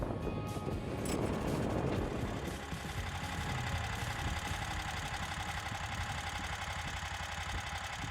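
A Draxter T-Rex ATV motorbike engine idles steadily after warm-up with a low, even rumble and a faint mechanical knock, close by and alone, with a little rattling noise near the start.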